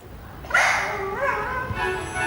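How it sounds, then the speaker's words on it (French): A dog lets out a yelping, whining bark that rises then trails into a wavering whimper, fairly loud and close in an indoor scene, with no talking over it. "C'est un aboiement?"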